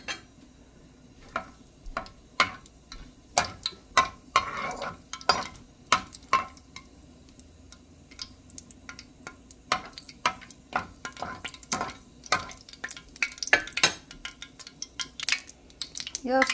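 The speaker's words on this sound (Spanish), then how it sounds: "Ya voy a dorar los pimentones y los clavitos de olor." Dried red peppers and cloves brown in a pan, with scattered clinks and scrapes of a utensil stirring against the cookware over a faint background hum, moderately close and fairly quiet.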